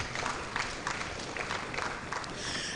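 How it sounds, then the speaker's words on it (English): A conference audience applauds, a sustained wash of many hands clapping at moderate distance, fairly even throughout with little speech. "A round of applause, please."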